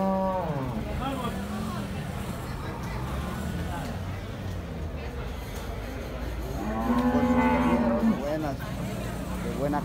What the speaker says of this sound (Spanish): Miren, aquí tenemos estas hermosas vacas.